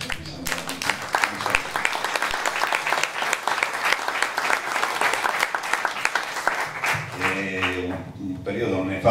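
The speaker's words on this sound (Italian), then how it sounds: "io credo un applauso." Audience applause in memory of the writer Giorgio Pressburger at a cultural talk, a dense run of clapping lasting several seconds before fading as a voice begins speaking near the end.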